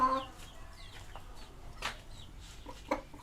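Hejazi rooster clucking and calling in a poultry yard, several short throaty clucks and squawks scattered across the moment, close and clear, with a louder burst near the end.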